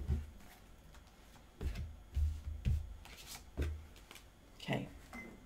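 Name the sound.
tarot cards being cut and shuffled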